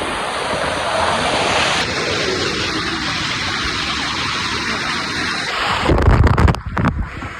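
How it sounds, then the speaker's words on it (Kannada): Water gushing forcefully down onto a person's back, a loud continuous roaring rush close up with no talking, ending in a few seconds of louder, choppier splashing and buffeting. "ಫೋರ್ಸಾಗಿ ನೀರು ಬರ್ತೈತಲ್ಲ, ಬೆನ್ನಿಗೆ ಬೀಳಲಿ ಅಂತ."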